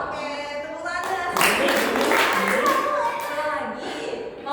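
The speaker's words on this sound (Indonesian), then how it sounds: "Oke, tepuk tangan." Group of people clapping hands together during a group guidance session, a short burst of mixed claps at moderate distance following a spoken voice, with talk overlapping.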